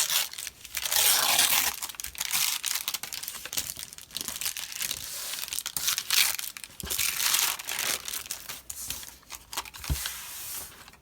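Greaseproof paper is crumpled and crinkled by hand for a craft project, close-up crackling in irregular bursts and squeezes throughout, no voices.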